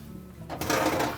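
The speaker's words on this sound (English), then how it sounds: "you can start by opening the door up fully, and we'll remove the racks" Metal oven racks slide out of a Whirlpool range with a scraping, rattling rush that swells after a low hum, close and fairly loud.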